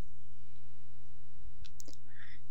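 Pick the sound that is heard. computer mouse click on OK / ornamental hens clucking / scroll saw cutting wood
computer mouse click on OK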